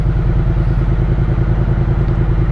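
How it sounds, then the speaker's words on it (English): A 2020 Triumph Street Twin's parallel-twin engine idles close by, a steady, even low throb with a fast regular pulse and light mechanical clatter, no voices. "this is a very smooth motor, by the way, parallel twin in proper Triumph fashion"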